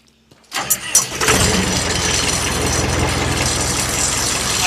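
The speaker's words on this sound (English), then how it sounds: "I'm going to go ahead and fire it back up." A diesel engine on a 2004 Morbark Blizzard 12 wood chipper cranks and fires after a brief near-silence, then settles straight into a loud, steady, close-up rumbling idle.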